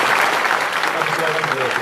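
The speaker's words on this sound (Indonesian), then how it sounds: "tepuk tangan untuk kedamaian kita semua" Audience applause at a Maiyah gathering in Bali: a dense, steady wash of clapping from a crowd that holds evenly for nearly two seconds, with faint voices mixed in.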